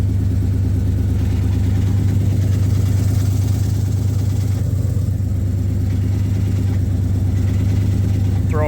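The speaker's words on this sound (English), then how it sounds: "Throw bearing's bad" A 2003 SVT Mustang Cobra idling with a failing clutch throwout bearing gives a steady, loud, close engine drone with a low rhythmic rumble and a faint whirring whine on top, and no voices.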